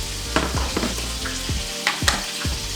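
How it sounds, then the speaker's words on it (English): Carnivore meatballs browning in a pan, a continuous close sizzle with repeated scraping stirs and small pops at an uneven rhythm, no talking. "while the meatballs are finishing their thing, they're finishing browning, they're almost done"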